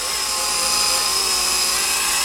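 An E-Flite Micro Blade SR120 fixed-pitch RC micro helicopter holds a steady hover, giving off a constant high-pitched whine of motor and rotor, close and loud without a break.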